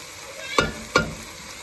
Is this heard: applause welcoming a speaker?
no